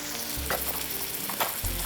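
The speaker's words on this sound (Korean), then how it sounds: "다진 양파를 넣고요. 살짝 볶아줄 거예요." Minced onion sautés in a pan with a steady, close sizzle, with a few brief stirring scrapes over the top and no voices.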